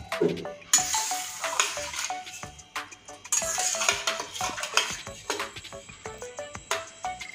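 Baim eel fish dropped into hot oil to fry, a burst of sizzling that flares up twice, with the scraping and clinking of a spatula in the pan.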